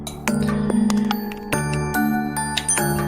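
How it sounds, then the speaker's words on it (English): Bright tonal puzzle chime from the video game Linelight, a run of ringing, bell-like notes sounding one after another with overlapping sustained tones, loud and clear with no talking. "Oh yeah, I can. I heard the chime."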